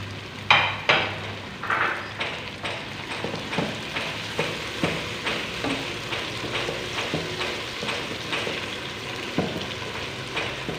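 Tomatoes sizzling in a pan with garlic-ginger paste for Hyderabadi chicken, a steady loud fry broken by regular clinks and scrapes of a spoon stirring against the pan.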